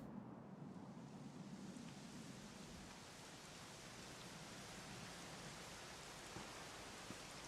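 Steady rain falls in the Dragon Quest XI video game, an even hiss of downpour with no pauses, heard alone and fairly faint.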